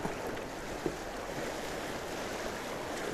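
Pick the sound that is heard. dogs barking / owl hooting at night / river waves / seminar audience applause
river waves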